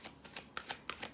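Tarot cards being shuffled by hand, several quick riffling bursts in a steady rhythm, close and quiet with no talking.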